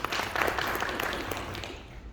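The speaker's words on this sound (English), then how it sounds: "Round of applause for Rachel." Brief burst of audience applause for a woman named Rachel at an Agile DevOps metrics talk, a close, dense patter of clapping that starts strong and tapers slightly over two seconds.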